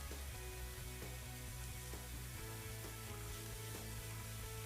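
Shallots sautéing in a hot pan for a spinach artichoke dip, giving a steady broadband sizzle under layered tonal hum from the kitchen, continuous and fairly quiet with no talk.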